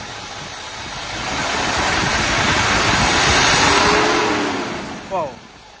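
A Mercedes V8, from a classic S-Class such as the W116 450 SEL 6.9 or W140 S500L, idles up close with a steady low rumble that swells slightly midway, with a brief voice near the end.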